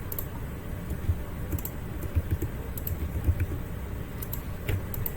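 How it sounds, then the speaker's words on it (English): Fingers tap on a computer keyboard in a quiet room, soft irregular clicks in small bursts over a low steady background hum. "Then I will need to type in my full name and my username."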